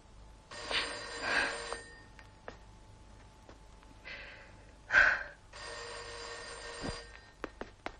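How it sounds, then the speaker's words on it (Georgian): A telephone rings in bursts inside a room: two ringing stretches, a louder one near the middle and a sustained ring late on, with faint clicks between them. "რა უნდა აქ ამ ტელეფონს?"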